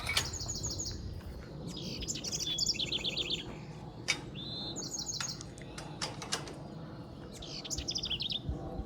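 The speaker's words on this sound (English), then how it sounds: "I'm listening to the birds." Birds chirping in a wet garden just after rain, with bright repeated trills and quick tweets coming in bursts from several directions over a soft steady outdoor background.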